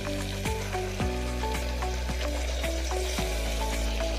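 Washed broad beans cooking in a pan with softened tomato, a close continuous sizzle with occasional stirring scrapes and pops, no talk.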